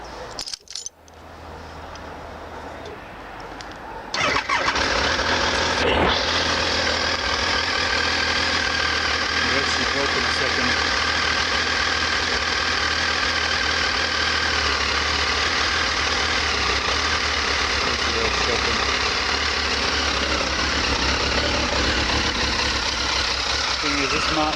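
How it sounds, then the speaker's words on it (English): A motorbike fitted with an aftermarket exhaust and an off-road tour map fires up after a brief cranking, then settles into a steady, loud, close idle that runs on unbroken, with a person speaking over it. "Let's start the bike up."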